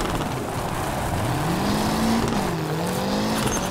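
Group B rally car in the WRC 2 video game on the Acropolis Rally of Greece, engine droning loud and steady with pitch dipping and rising through a handbrake hairpin, tires scrabbling on gravel.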